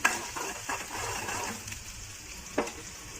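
Butter beans and potato with onion and curry leaves sautéing in a pan, a steady soft sizzle with occasional stirring scrapes and a brief clink near the end.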